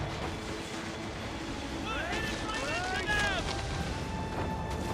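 Cannon fire from a ship during a naval boarding fight in Assassin's Creed Rogue, heard as dull rumbling booms under crew shouting and whistling sounds, with wind and sea noise throughout.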